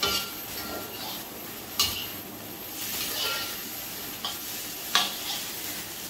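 Penang char koay teow being stir-fried in a pan at home, a steady sizzle with scraping stirs and a few sharp metallic clinks of utensil on pan, close and fairly quiet, with no talking.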